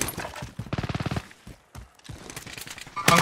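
Gunfire in Call of Duty Warzone, with rapid bursts of automatic shots in quick strings, loud and close, separated by brief quiet gaps and ending in a sharp crack.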